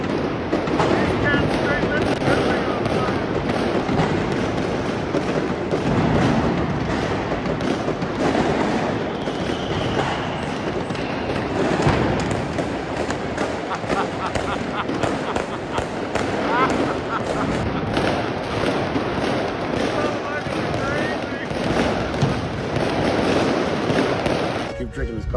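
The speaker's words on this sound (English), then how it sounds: "To say that the Neapolitans love their fireworks is a bit of an understatement." New Year's Eve fireworks and firecrackers in Naples, a loud, unbroken crackle of bangs and pops that fills the whole stretch, with voices faintly mixed in beneath the din.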